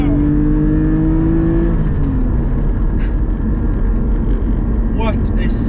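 A Porsche Cayman GT4 engine heard from the cabin while driving, a loud, steady drone with rising and falling engine tones as it accelerates and shifts, close and continuous throughout.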